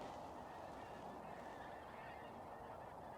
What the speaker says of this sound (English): it's like a miniature duck murmuration. There's loads of them flying at the moment just behind me.